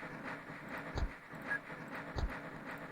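Train rolling along the tracks in the OpenTTD transport game, with two soft rhythmic clunks a little over a second apart, moderately faint.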